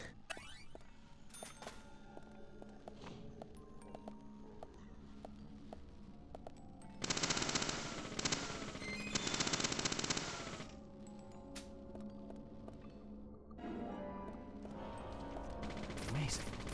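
Gunfire in the video game Deadly Premonition: The Director's Cut, bursts of rapid shots rattling amid game sounds, with two loud dense stretches of firing and a later burst, and voices talking throughout.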